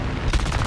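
Short burst of machine-gun fire from an enemy fighter plane in War Thunder air combat, loud and close, a rapid rattle lasting well under a second with no talking.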